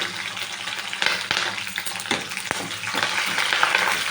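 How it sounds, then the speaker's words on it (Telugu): Dried red and green chillies frying in hot oil for mango pulihora, a close, busy sizzle with crackles and a few sharp pops as they are stirred. "త్వరగా వేగినవి నెక్స్ట్ ఎండుమిర్చి పచ్చిమిర్చి"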